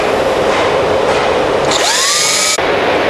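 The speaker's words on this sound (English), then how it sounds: "install the 3/16 bit in my drill, and I'm simply going to drill one hole" A power drill with a 3/16-inch bit whirs loudly as it bores a hole while installing a snowplow sight system, the motor pitch rising under load before cutting off abruptly.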